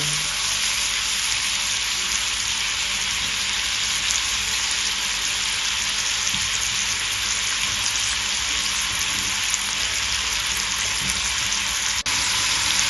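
Rolled beef braciole searing in hot olive oil, a loud, constant close-up sizzle and crackle that runs unbroken, with a faint clink near the end and no voices.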